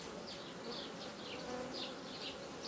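Honey bees hum in a dense, steady buzz close by, a continuous swarm drone with brief swells in loudness and no voices.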